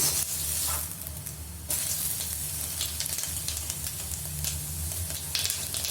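Masala spices hit a hot pan for veg pulao, setting off a strong, continuous sizzle and hiss with stirring scrapes and a sudden surge in the frying noise partway through.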